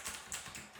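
Keys clack in a quick run on a $20 AUKEY tenkeyless mechanical gaming keyboard with blue switches, the crisp clicky strokes close and distinct without talk.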